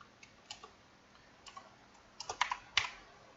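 Sparse keystrokes on a computer keyboard while typing C++ code, a few isolated clicks early on, then a quicker, louder cluster of taps near the end, close and without talk.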